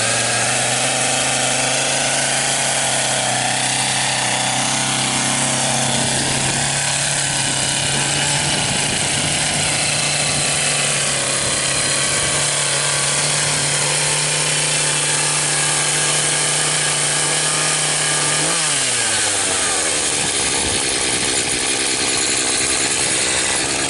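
Echo chainsaw fired up and running, a loud, continuous buzzing two-stroke whine held at steady revs for about twenty seconds before the pitch drops sharply as the throttle eases, close and without speech.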